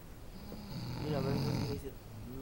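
People snoring loudly on a trip to Rosarito, a rough rumbling rasp swelling to a peak in the middle and then easing, close and continuous.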